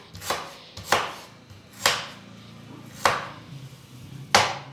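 A knife chops through ginger in five sharp, evenly spaced strikes about a second apart. The cuts are close and crisp with nothing else in between.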